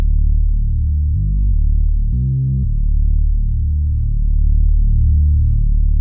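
Moog Sub 37 synthesizer playing deep, punchy bass notes: a few sustained low tones change pitch every second or so, steady and loud with no talking.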